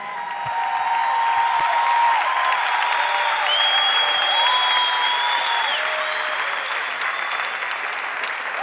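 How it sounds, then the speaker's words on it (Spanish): A large audience at a church crusade in Argentina claps steadily and loudly throughout, with a few whistles rising above the applause. "recibamos, let's receive, con un fuerte aplauso, a strong applause"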